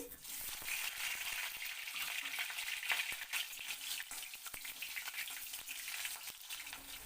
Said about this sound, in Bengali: এবার আমি এই কাঁচকলাটাকে একটু হালকা করে ভেজে নিচ্ছি